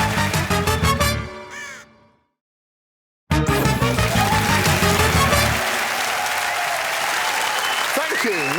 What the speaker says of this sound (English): Nice clapping. Great clapping.